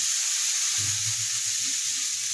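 Cashew and poppy seed paste hits a spice mix frying in oil, giving a steady, close hiss and sizzle all the way through. A low stirring rumble joins partway in.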